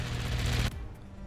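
Heavy cannon fire in the artillery strategy game Forts, a dense loud blast with rumbling low end lasting most of the moment, then cutting off abruptly into a quieter tail.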